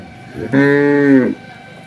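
A three-tooth beef cow at a cattle market in Dinajpur lets out one loud, drawn-out moo close by, lasting under a second, with quiet market background before and after.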